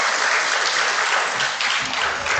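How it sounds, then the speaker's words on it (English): An audience at a general membership meeting applauds to honour women fintech leaders on International Women's Day, a brief, even burst of clapping from a crowd of moderate size. "Let's give them a round of applause."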